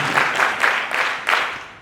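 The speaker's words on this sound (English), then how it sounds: "A biggest clap." A graduation audience claps on cue at a scholars' ceremony, a short burst of several distinct rhythmic group claps, fairly loud and roughly evenly spaced.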